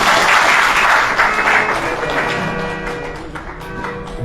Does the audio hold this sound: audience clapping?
yes